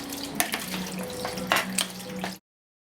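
Creamy cheese mixture for baked ziti stirred in a bowl, producing soft wet squelching and smacking sounds with a few louder slaps, close and steady for a couple of seconds, with no talking.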